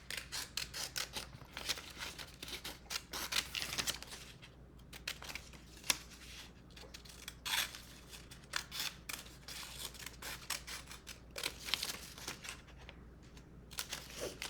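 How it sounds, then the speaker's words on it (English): Scissors cutting out a small paper arm for a director's board craft: a close run of crisp snips and paper rustles, some louder clips and crinkles, steady over a faint room hum with no talk. "we also need to cut out this little arm up here"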